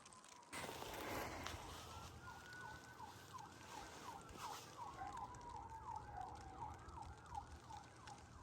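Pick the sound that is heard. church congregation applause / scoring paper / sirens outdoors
sirens outdoors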